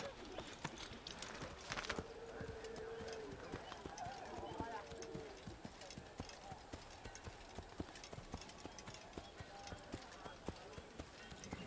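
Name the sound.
horse hooves clip-clopping in video game Assassin's Creed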